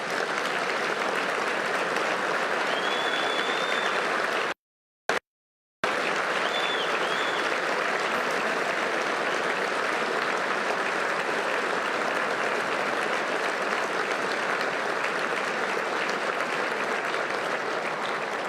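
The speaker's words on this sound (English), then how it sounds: "let's give them a big round of applause" Sustained applause from a large audience honoring high school Broyles Award winners at an award ceremony, a dense steady clapping that briefly cuts out and resumes at full strength.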